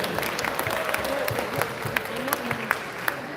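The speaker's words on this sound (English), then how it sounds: "Let's give them another big round of applause to the judges." An audience at a robotics competition award ceremony claps for the judges, producing a moderate, scattered patter of hands with occasional sharper individual claps.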